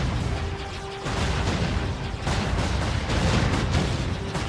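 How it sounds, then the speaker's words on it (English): Heavy explosions rumble through a Jade Empire video game sequence on Xbox Series X, with booming blasts overlapping in a loud, dense barrage amid continuous action noise. "Lots of explosions."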